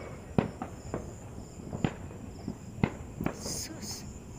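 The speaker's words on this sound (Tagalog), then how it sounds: "Ang fireworks ni Mayor." Distant New Year fireworks from a town plaza pop and thud in scattered single bangs, faint and far off, over a steady insect chirring, with people talking.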